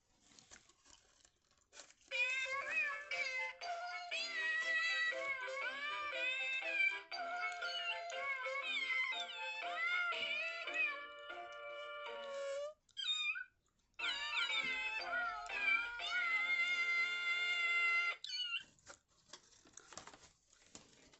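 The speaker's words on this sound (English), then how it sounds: "sent us a birthday card where the kitty cats are singing happy birthday" A musical birthday card plays Happy Birthday sung in meowing cat voices, a tinny synthetic melody running about twenty seconds with a brief pause midway.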